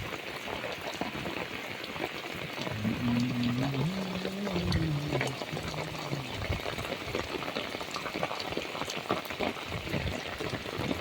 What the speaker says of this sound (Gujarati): વરસાદ ખરેખરનો વરસાદ આવી ગયો